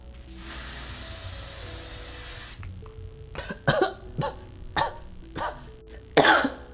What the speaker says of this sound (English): I felt like it was a little more aggressive of a spray,